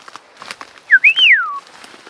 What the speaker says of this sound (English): I'm gonna whistle.